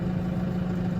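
A cab tractor engine idles with a steady low hum, heard from inside the cab, constant and moderately quiet with no talking.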